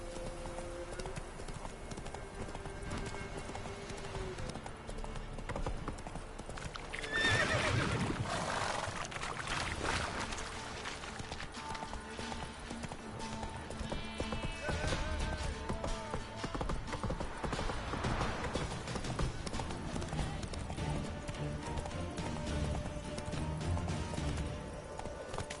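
Horse hooves clip-clop steadily in The Witcher 3 as the rider urges the horse along, a rhythmic galloping patter over game music and ambient noise, with a brief louder rush in the middle.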